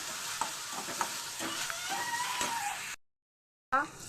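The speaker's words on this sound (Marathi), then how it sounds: "कांदा टाकून घेतला तर बघा टाकला आहे कांदा चांगला कांदा परतून घ्यायचा" Onion sautéing in oil for an okra curry gives a steady close sizzle with a few spatula taps and stirs, then cuts to silence before a brief clatter.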